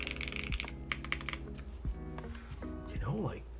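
Typing on a Ducky One X Mini keyboard fitted with GMK keycaps, quick clacky keystrokes in short bursts, close and fairly quiet, mixed with intermittent talking.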